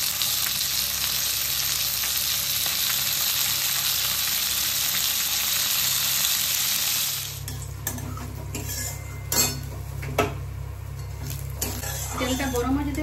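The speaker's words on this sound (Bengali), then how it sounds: "এই তেলটা গরম হয়ে গেছে, মাছটা ভাজবো।" Fish fries in hot oil with a loud, close, continuous sizzle for about seven seconds. It then settles into a quieter crackle broken by occasional pan and utensil clinks.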